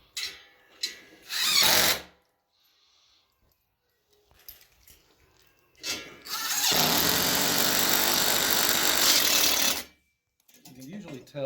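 A power drill driving screws into anchors set in brick while hanging an outdoor TV, with short whirring bursts early on and then a long, loud, steady run of several seconds; talk is heard between the bursts.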